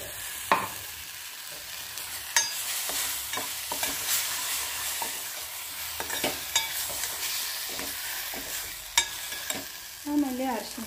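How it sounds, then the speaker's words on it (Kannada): Ground chana dal masala with onion and chilli frying in a pan, a steady close sizzle broken by scraping stirs at irregular intervals, with no one speaking. "ಸ್ವಲ್ಪ ಫ್ರೈ ಮಾಡಿ"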